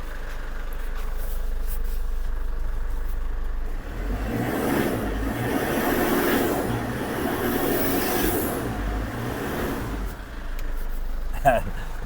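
A Ford Everest engine runs at a steady idle after its burned ECU was replaced, with the immobilizer disabled. The low rumble swells slightly midway and voices murmur in the background.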